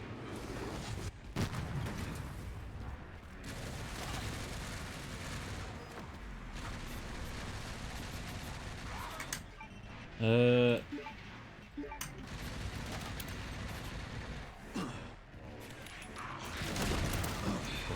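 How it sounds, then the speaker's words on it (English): Gunfire from the video game Requiem crackles in repeated bursts over a dense, noisy game mix, with a loud tonal blast partway through. "He's fucking returning fire"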